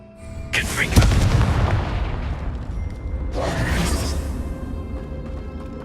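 In the video game Hogwarts Legacy, two Confringo fire spells go off one after another, each a loud whooshing burst into a deep, rumbling explosion that lingers and fades, with game ambience beneath.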